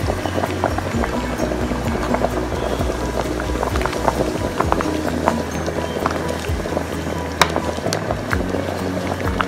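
A pot of vatta (trevally) fish curry cooked with mango in Kerala wedding-feast style simmers on the stove, giving off a steady, close bubbling and crackling hiss that runs unbroken throughout, with occasional small pops and no voices.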